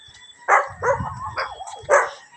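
A dog barks several times in short, uneven bursts, fairly close, with whimpering yips between barks.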